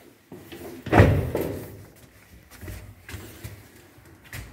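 The swing door of a 1966 KMZ passenger lift in Moscow shuts with one loud, close slam and metallic rattle, followed by softer thumps and shuffling.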